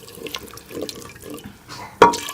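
Milk poured into jama (tara mira) saag cooking in a pan: soft, quiet kitchen sounds, then a sudden loud splash near the end, with no talking.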